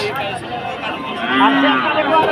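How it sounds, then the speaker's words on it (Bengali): Cattle mooing at a busy livestock market in Chaumuhani, Brahmanbaria, with long, wavering calls from nearby animals layered over a crowd's background chatter. "এটা তো গরু বাজার তো এটা প্রচুর গরু উঠে"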